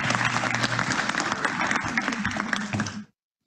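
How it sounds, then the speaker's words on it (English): Audience applause at a college graduate awards ceremony, a steady, fairly close burst of many hands clapping with a faint held tone underneath, cutting off abruptly after about three seconds. "The applause ran over you."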